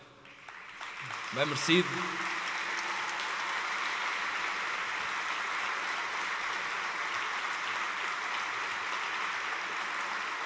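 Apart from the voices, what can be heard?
applause at sports gala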